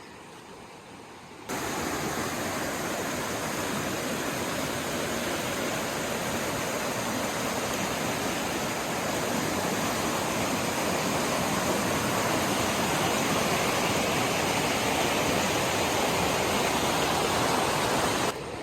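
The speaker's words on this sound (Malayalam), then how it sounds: "ഇവിടെ ഈ ഇങ്ങനെ പുഴ ഒഴുകിക്കൊണ്ടിരിക്കുന്നത്" Loud, continuous rushing of a flowing river in a village in Wayanad, Kerala, a steady broadband roar that holds for the whole stretch without pause.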